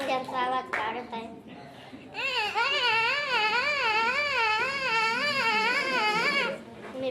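A voice imitates hens with a long, wavering, warbling call that rises and falls in steady loops. It is loud and close, preceded by a few shorter vocal bursts.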